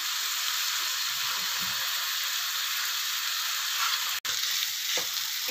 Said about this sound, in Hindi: इसको अच्छे से मिक्स कर लेते हैं